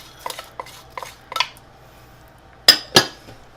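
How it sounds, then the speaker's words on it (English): Bacon, mushrooms and pearl onions being stirred into a beef bourguignon stew, heard as a series of spoon scrapes and clinks against the pot, a few soft ones followed by two sharper knocks, close and alone. "So now we're going to stir in all of the ingredients into the stew."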